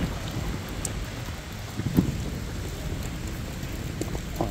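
Heavy rain pours down in North London as a dense, steady hiss of falling water with a low rumble underneath and a few sharper drops or knocks, heard without any talk.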